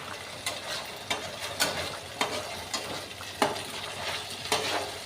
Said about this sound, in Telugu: అల్లం వెల్లుల్లి పేస్ట్ అనేది పచ్చివాసన పోయేంత వరకు ఇలా వేయించాలి